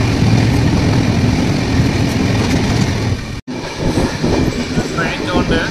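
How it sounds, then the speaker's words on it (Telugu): A train on the Vizag to Araku Valley line, heard from inside a Vistadome glass coach, runs with a loud, dense rumble and rattle, broken only by a momentary dropout, with no voices over it. "ట్రైన్ చూడండి"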